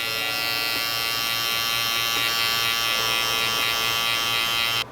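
Electric hair clippers fitted with a number 2 guard buzz steadily and close up while blending a low fade, a continuous high whine with no speech.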